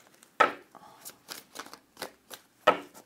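A deck of guidance cards being shuffled by hand, heard as a few sharp riffling bursts spaced irregularly, with softer card rustles in between; close and fairly quiet.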